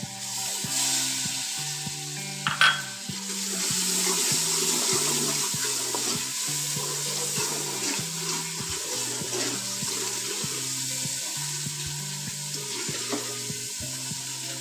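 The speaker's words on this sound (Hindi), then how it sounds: "आप थोड़ा सा पानी इसके अंदर डालना है ताकि ये मिक्स हो जाए।" Water poured into a pan of kadhi spice masala, sizzling and bubbling steadily close by with a sharp splash near the start, continuous and fairly loud with no talking.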